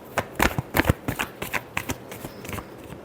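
Tarot cards are shuffled by hand, with a rapid series of crisp riffling bursts and light slaps, close and clear with no talk.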